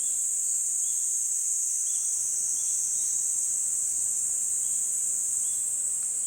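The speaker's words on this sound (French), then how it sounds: "c'est l'heure des grillons et des insectes. Ils sont en forme." Crickets and other insects chirp at night in a wild camping spot at Heda, Japan, forming a dense, steady high-pitched drone, with a few softer chirps recurring faintly beneath it and no voices.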